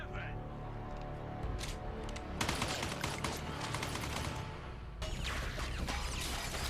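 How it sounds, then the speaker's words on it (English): Gunfire from a zombie drama TV episode, bursts of rapid shots and crashes filling the scene, with a louder volley breaking in partway through, heard over a steady background. "Oh, he's shooting above his head."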